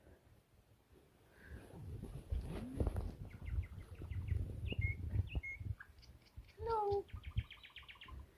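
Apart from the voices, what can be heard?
bird chirping outdoors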